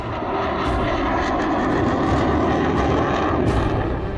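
Military fighter jet roaring overhead at the Purvanchal Expressway airstrip in Sultanpur, a loud, continuous engine rumble filling the whole stretch with no voices.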